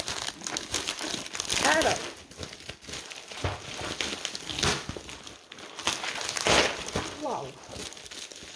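Crinkly plastic packaging of a cross-stitch parcel being torn and unwrapped up close, with bursts of crumpling and tearing across the clip while someone speaks French briefly between the rustles.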